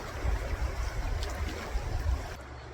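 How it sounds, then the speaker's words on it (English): Flood water of a swollen river rushing under a bridge, a loud continuous roaring wash with a heavy low rumble, steady and close with no voices. "it's a substantial amount of water that's coming under that bridge"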